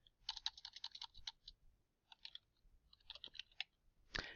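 Quick, light keystrokes on a computer keyboard come in short clustered bursts with small pauses between, faint and close, ending with a louder thump.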